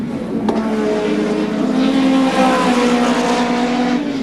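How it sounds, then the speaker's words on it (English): Touring cars racing past at the 1988 Winton ATCC round, including a BMW, engines droning loudly and steadily with rising and falling pitch as the pack runs by, close and continuous. "The Murray Carter, Gerald Kay behind him, then the Golson BMW, and the 27, running back there in 7th"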